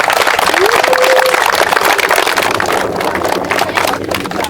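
Warm applause for the village head at a new playground opening ceremony in a Polish village, a loud, dense crowd clapping that fills the whole stretch, with a brief whistle-like tone early on.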